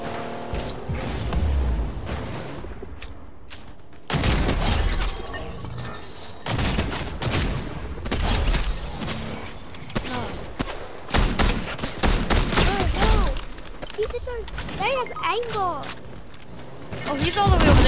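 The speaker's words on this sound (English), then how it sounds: "I hear them shooting." Gunfire in the Fortnite video game rattles in repeated bursts and rapid volleys, loud and near, mixed with clanking game effects while players talk over it.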